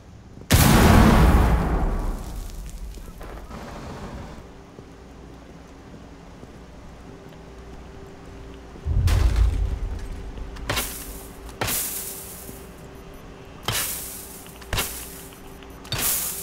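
A frag grenade explodes in Rainbow Six Siege, a loud close boom with a long rumbling tail, followed by a second blast and several sharp gunshot cracks spaced across the rest of the scene.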